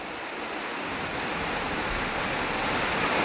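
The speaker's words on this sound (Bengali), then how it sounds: "এতটা বৃষ্টি হচ্ছে, দেখো প্রচন্ড বৃষ্টি" Heavy rain pouring over an open field beside a roadside, a steady dense hiss of drops close by and continuous throughout with no voices.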